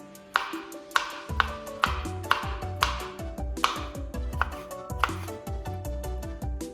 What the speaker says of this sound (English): So let's chop the peppers.